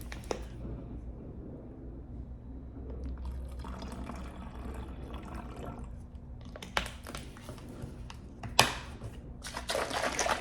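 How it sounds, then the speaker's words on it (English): Water trickles and drips into a thick vegan protein shake, with soft liquid sounds at first, then several sharper splashes and pours near the end. "I gotta add a little bit more water."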